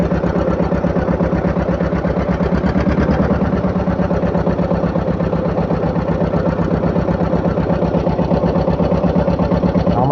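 A river boat's engine chugs in a fast, even, unbroken rhythm close by, running loud and steady with no voices over it.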